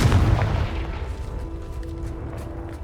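Confringo fire spell exploding in Hogwarts Legacy, a single deep booming blast at the start that fades into a low rumbling tail.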